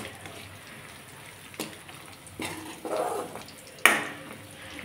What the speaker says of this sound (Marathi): हे सगळे व्यवस्थित मिक्स करून घ्यायचं आहे।